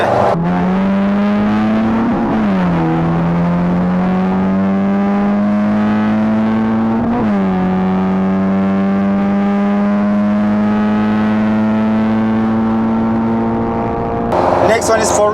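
An Opel Corsa B GSI with a swapped C20XE engine and individual throttle bodies drones loudly and close, its pitch rising steadily through several gear pulls with brief dips at the shifts, a voice talking underneath.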